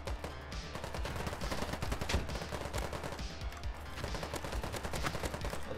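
Dense, loud bursts of rapid AK-74 rifle fire in the shooter game Polygon, continuous automatic shots filling the whole stretch with no pauses.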